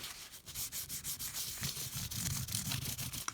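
Cloth rubbed back and forth along the top of a 1973 Fender Stratocaster neck during a refret, giving a steady close-up swishing rub with a soft rhythmic pulse and no talking.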